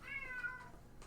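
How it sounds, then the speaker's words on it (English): A cat meowing indoors, one drawn-out descending meow that comes through clearly and close against a quiet room. "It's a loud ass cat."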